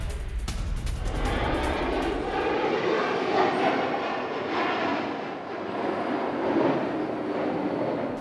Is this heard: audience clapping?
no